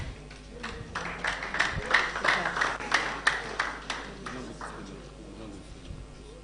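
Applause from a conference audience at a tech event in Cape Town welcoming a speaker, a modest burst of scattered clapping that swells and then thins out over a few seconds, with faint talk underneath.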